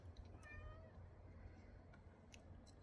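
A pet cat meowing to be let in, a few faint, rising meows from a short distance over low room noise.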